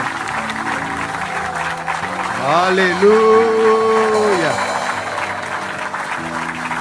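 A church congregation claps and cheers through a worship acclamation, the steady broadband applause rising under a voice that sings out a sustained melodic line in the middle.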